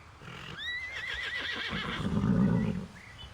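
A horse in a video game gives a loud, clear whinny that rises and wavers for about two seconds, followed by a softer snort and faint trailing sounds, with no talk.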